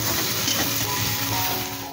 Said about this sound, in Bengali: আলু সয়াবিনগুলো কিছুক্ষণ ভাজা হয়ে গেছে।